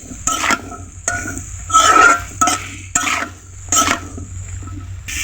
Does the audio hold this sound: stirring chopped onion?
yes